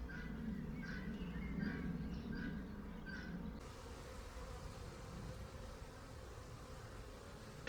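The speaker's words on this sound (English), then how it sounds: "The bees are really active at the moment" Honey bees buzz and fly outside their hive on a homestead, a steady close droning hum throughout, with a few faint chirps in the first few seconds.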